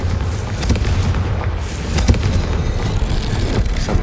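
The Confringo blasting spell in Hogwarts Legacy sets off rumbling explosions, several sharp booming impacts over a deep, steady roar of game ambience, with no talk.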